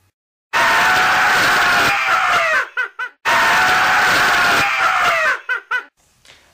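Two long, loud screams from a rope-jumping team, each sustained for about two seconds, then breaking into short gasping bursts and laughter-like yelps before stopping.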